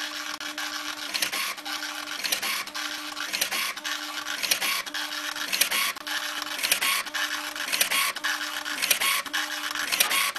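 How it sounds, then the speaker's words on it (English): A CAB A4+T textile printer with stacker and cutter prints on synthetic material, giving a steady close mechanical whir with regular repeating pulses about once a second, no talking. "and you're ready to begin printing"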